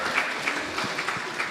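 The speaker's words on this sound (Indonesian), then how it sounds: "Kita sambil sekali lagi dong berikan tepuk tangan untuk kemuliaan nama Tuhan Yesus Kristus" Church audience clapping together at an anniversary service, a dense continuous patter of many hands filling the room, with a faint voice underneath.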